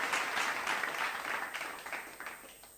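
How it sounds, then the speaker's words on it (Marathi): Audience at a banana conference in Maharashtra breaks into sustained applause, a dense steady clatter of many hands that holds strong for over two seconds before tapering off. "तर जोरदार टाळ्या मित्रांनो"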